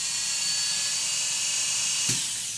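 Oster A5 single-speed professional electric grooming clippers running alone, a steady high-pitched motor whine with a faint buzz, close and constant, with a small click near the end.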